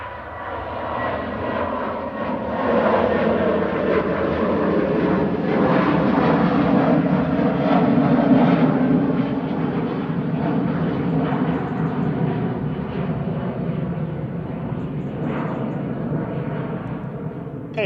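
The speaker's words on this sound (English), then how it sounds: "KLM 1028 over to Amsterdam there. I think that was a 737-300 as well, one of the Diddy ones." A KLM Boeing 737-300 jet departs an airport toward Amsterdam, its broad engine roar holding steady and fairly loud for the whole stretch, swelling slightly in the middle as it passes.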